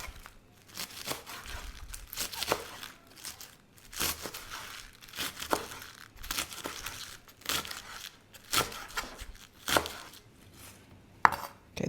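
A knife chops through rolled kale leaves on a cutting board in steady, rapid strokes, with a crisp crunch and clack on each cut and brief pauses between runs, close and clear with no talking.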